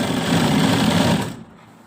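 Sewing machine stitching lace onto the edge of a dupatta, a steady close whirring run that stops abruptly after a little over a second, leaving near silence.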